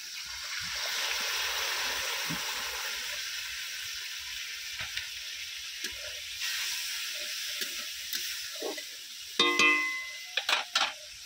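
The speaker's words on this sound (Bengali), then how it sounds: "এবারে দিয়ে দিচ্ছি অল্প একটু জল" A little water goes into rohu fish kalia masala in a hot pan, starting a sharp rush of hiss and sizzle that gradually softens, followed by scattered clinks and spoon taps near the end.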